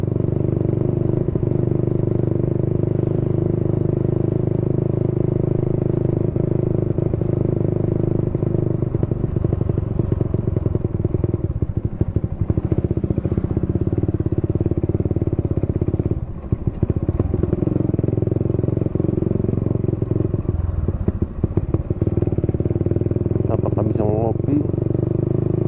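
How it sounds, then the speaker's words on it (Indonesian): A Honda Supra motorcycle fitted with a Daytona engine runs steadily and loudly up close for the whole stretch, its rough clattering drone continuous, with a person talking over it. "Nah, ini suara helikopter motor gue nih."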